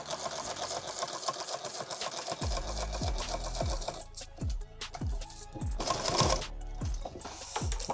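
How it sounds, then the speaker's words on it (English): Sewing machine stitching a pistol magazine pack in red thread, running in a steady rapid rattle with repeated short bursts and pauses as the fabric is fed, close and fairly loud with no talk. "probably should not be sewing this here in red."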